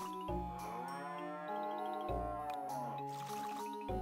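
Cow in a Harvest Moon farming video game mooing in long, drawn-out tonal calls, several moos in succession, clear and up close with little else around.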